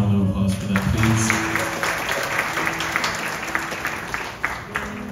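A crowd applauds at a 50th birthday celebration, sustained clapping from a room of guests with a faint tonal hum underneath, loud at first and gradually tapering as a voice begins to speak.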